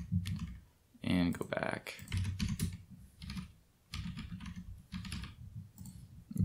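Rapid clicking keystrokes on a computer keyboard, entering an email address into a card payment form, in close bursts broken by short pauses, with someone talking briefly over the typing.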